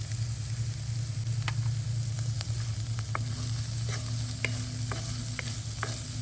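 Boiled peas with coriander and cumin powder frying in a pan: a dense, even sizzle runs throughout, with occasional light stirring clicks of a spoon on top.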